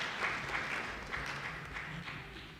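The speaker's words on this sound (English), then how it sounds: "please clap for Karamaji Andrew as he joins us" An audience at a civil society convention applauds as a speaker joins, a soft, distant, steady patter of clapping at low level.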